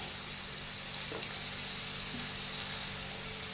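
Sliced onions and green chilies frying in a pan, a steady broadband sizzle that holds evenly throughout, close and moderately loud, with no voices.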